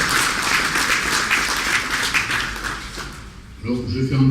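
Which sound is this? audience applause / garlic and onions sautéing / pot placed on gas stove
audience applause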